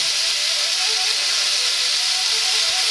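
Pork belly browning and sizzling in a pan, a steady bright hiss of frying fat with light crackles, close and constant.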